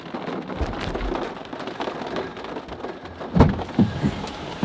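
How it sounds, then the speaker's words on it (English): Steady heavy rain pouring down in Shenandoah National Park, a dense hiss with heavier splattering drops and a few dull thumps nearby. "Just made it to the car as it starts to pour."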